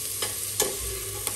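Onion tadka frying and sizzling in a pan, with a steady low sizzle and a few brief scraping stirs of a spoon, close and fairly quiet, no talking.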